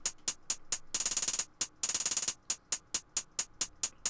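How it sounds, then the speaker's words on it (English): Crisp hi-hats from a drum kit tick through a dark trap beat in an even, rapid pattern, broken twice by short bursts of rolled, rattling hits before the steady pulse returns; no voices. "Then I've just got some hi-hats again from my kit."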